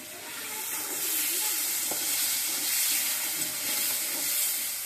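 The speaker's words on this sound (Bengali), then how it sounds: "কালো জিরে দিয়ে দিয়েছি, তারপর মরিচ, হলুদ, জিরে বাটা দিয়ে ভালো করে কষিয়ে নিচ্ছি" Chili, turmeric and cumin paste sautéing in a pan with black cumin seeds, a soft continuous sizzle with faint stirring noises throughout.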